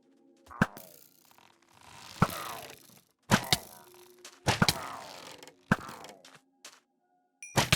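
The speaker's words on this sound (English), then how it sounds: "Flint and steel. Give me my fire." Flint and steel struck in Minecraft gives a string of separate sharp clicks and scraping cracks, each followed by a short rasping decay, spaced unevenly over several seconds in a quiet game scene.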